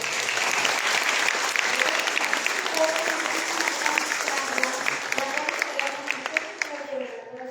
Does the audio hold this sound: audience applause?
yes